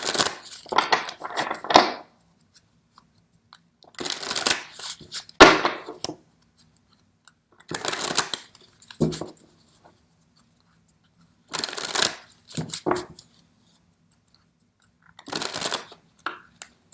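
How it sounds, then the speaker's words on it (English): New Orleans Voodoo Tarot cards being shuffled by hand, coming in about five separate bursts of quick papery riffling and slapping, each lasting a second or two, with near silence between them. The shuffling is close and there is no talk. "Let me shuffle them."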